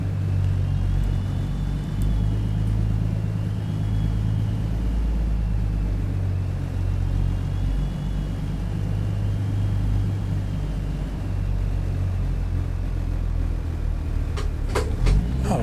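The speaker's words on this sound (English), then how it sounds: "I guess I just drive onto it." A truck driving in American Truck Simulator gives off a steady, loud low engine drone with a faint whining tone above it, and a few clacks come near the end.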